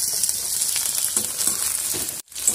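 Chopped tomato going into a pan of lightly fried onions for a fried chicken dish, a loud steady sizzle with scraping stirs, close up, ending in a brief pause and then a fresh burst of frying.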